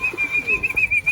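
Pigeons coo briefly at close range as they go into their loft, a short burst of soft bird sounds with a thin steady whistle-like tone running underneath.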